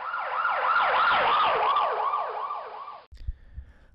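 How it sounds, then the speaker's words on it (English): A wailing ambulance siren passing by with a Doppler pitch drop sweeps up and down in rapid cycles, loud and close, then cuts off abruptly, leaving faint low rumbles and knocks. "the most famous example is the sound that an ambulance makes when it drives by"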